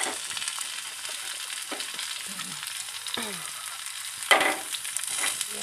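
Shallots and garlic fry in a pan for a sweet soy tempeh dish, a constant close crackling sizzle broken by several short scraping stirs and one louder clatter near the end.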